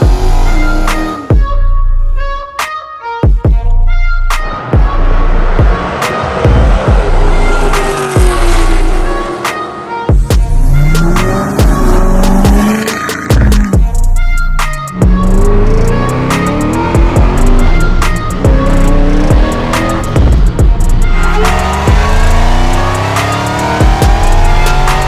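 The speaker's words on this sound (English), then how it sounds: "We're going to start off with a cold start" Four-wheel drive extended cab truck engine cold-starting and running, loud and close, with repeated sharp transient clatters and bursts of engine noise and shifting tones over a steady rumble.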